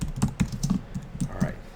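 Quick bursts of typing on a computer keyboard during a programming session, a close run of light clicking keystrokes in an uneven rhythm, with a faint voice in the background.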